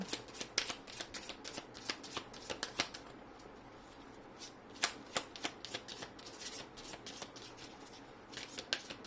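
Tarot cards being shuffled by hand, rapid riffling bursts in repeated flurries with short pauses, close and quiet, without speech.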